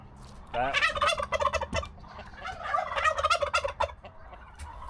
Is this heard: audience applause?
no